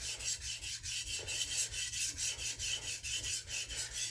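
Rhythmic rasping strokes of a hard-steel kitchen knife being drawn in long passes across a 600–800 grit sharpening stone, steady and close, repeating about every half second with no talk.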